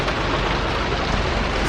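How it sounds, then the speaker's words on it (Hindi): Heavy rain pouring onto a car with a sunroof, a dense, loud, unbroken hiss of drops drumming on the roof and glass, with no talking. "बारिश देखो इतनी तेज़ हो रही है"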